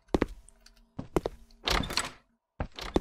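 A door closing in the horror game Momo produces several short, dull thunks spread over a few seconds, close and fairly quiet, with gaps of silence between them.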